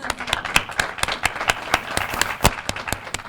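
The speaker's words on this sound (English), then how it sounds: "give you another round of applause" Rhythmic, fairly close unison clapping from a graduation audience, a steady beat of sharp claps over a thinner background of scattered hands.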